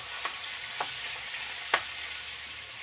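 Garlic, onion and tomato sauté in a pan for adobo, a steady low sizzle broken by a few light clicks of a spoon or spatula, close and fairly quiet, with no voices.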